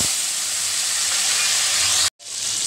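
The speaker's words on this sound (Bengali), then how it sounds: "টমেটোটা দিয়েছিলাম যে সেটা একটু ভাজা ভাজা করে নিচ্ছি" Tomato frying in hot oil with nigella seeds and a dried chilli, a steady loud sizzle that cuts out abruptly near the end, then resumes.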